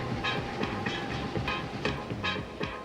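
Hong Kong Airport Express train running between the city and the airport, a steady loud rumble with rhythmic clickety-clack beats from the wheels passing rail joints, continuous throughout.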